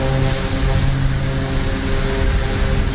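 Pilatus PC-6 propeller aircraft engine in Microsoft Flight Simulator, a steady loud droning hum with a constant low rumble and buzzing harmonics, unbroken throughout with no voices.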